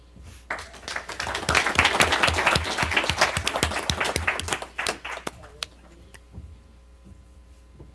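A city council meeting audience bursts into applause, many hands clapping loudly for several seconds before it thins out to scattered claps and fades.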